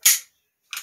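A Beretta M92A1 full-auto BB pistol, a full-metal blowback replica, fires two sharp, loud cracks close by, separated by a short silence.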